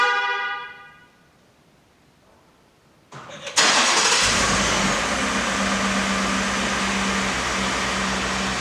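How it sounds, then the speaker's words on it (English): A 2015-or-later Ford F-150 pickup engine, remote started, cranks and catches after a few seconds of near silence, then settles into a steady, loud idle close by. "if we hit the lock button 3 times, it should remote start it"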